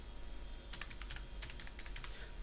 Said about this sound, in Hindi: then I am typing this